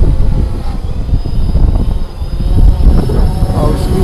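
DJI Phantom 3 Standard quadcopter drone flying outdoors, a loud steady buzzing whir of its propellers that rises and falls slightly, with talking audible under it.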